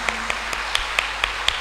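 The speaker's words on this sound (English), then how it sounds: "Can you give a loud clap to Jesus? Loud clap." Congregation at a Catholic shrine gathering clapping in response to a preacher, a sparse series of about seven sharp claps spaced evenly, fairly close but modest in loudness rather than a full burst of applause.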